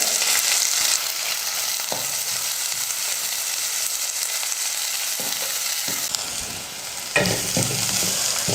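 Chopped small onions and curry leaves fry in a pan for a raw mango dish, a steady loud sizzle running throughout with occasional scraping stirs of a spoon, no voices.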